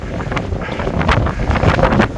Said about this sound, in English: It must be 40, 50 mile an hour winds here.